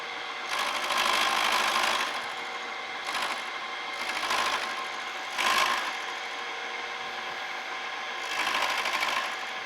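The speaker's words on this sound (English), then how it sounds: "I think I'll just take my bandsaw and cut that off on the other side." Bandsaw cutting through a broken cast-iron part from a W. F. & John Barnes treadle lathe, a steady buzzing whine that swells in several separate passes with quieter gaps between.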